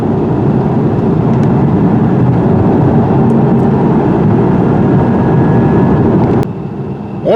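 Steady, loud engine and road drone from a 2017 BMW 530i cruising on the road, a continuous low hum that holds evenly before dropping slightly near the end.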